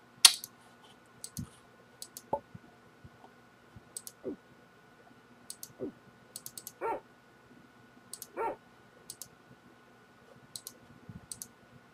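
In the Rusty Lake: Roots game, a dog gives a few short, faint barks among sparse mouse clicks over a quiet humming background.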